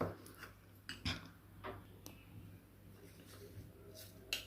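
A spoon stirs oil and powder in a mug, giving quiet, irregular clinks and scrapes against the sides, faint and close, with no one speaking.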